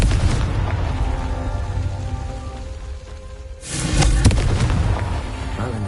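Confringo fire spell in the video game Hogwarts Legacy, a single loud explosive blast erupting midway after a quieter rumbling stretch, followed by crackling debris and a lingering roar.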